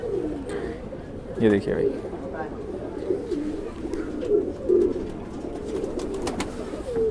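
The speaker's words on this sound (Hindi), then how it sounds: "बहुत ही शानदार कबूतर हैं सारे के सारे।" Kalpari Madrasi pigeons coo in repeated soft, low throaty calls close by, while someone speaks over them.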